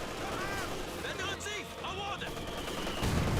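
An MG34 machine gun firing in Company of Heroes 2, dense bursts and explosions mixed under continuous talk from a live commentator.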